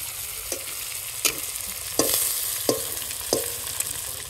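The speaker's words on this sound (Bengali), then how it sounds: "চিংড়িটা প্রায় ভাজা কমপ্লিট হয়ে গেছে" Shrimp frying in butter with onion and bay leaves in a village kitchen, giving a steady close sizzle broken by about six sharp spatula scrapes and stirs at irregular intervals.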